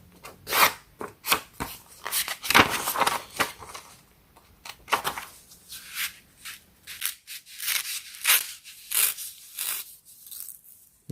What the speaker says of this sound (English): I'm just going to tear mine, but you can cut yours.